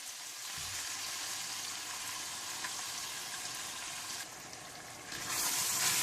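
Chicken sizzles steadily as it fries in a pan, a constant crackling hiss that swells louder near the end.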